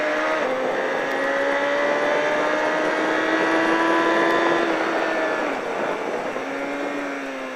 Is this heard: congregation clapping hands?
no